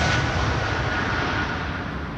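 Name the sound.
Croatia Airlines A320 taking off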